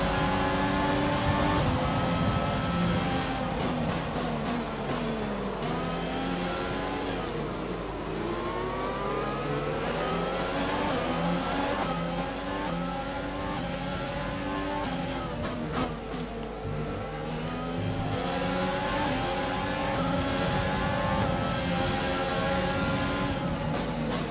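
Formula 1 car engines scream and rev continuously through a Canadian Grand Prix race in the F1 2020 game, pitch climbing and dropping with upshifts and braking into corners, loud and constant with no talk.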